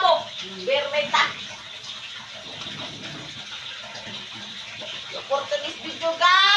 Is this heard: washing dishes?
yes